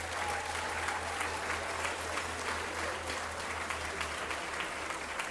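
Audience applause at a cdH party breakfast during the Foire de Libramont, steady dense clapping from a crowd filling the room, continuous and moderately loud for several seconds, with a low steady hum underneath.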